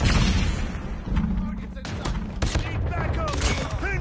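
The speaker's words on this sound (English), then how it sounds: "Grenade." Call of Duty Mobile combat, a dense rumbling barrage of explosions and gunfire close and loud, with voices calling out over the din and a few high chirps.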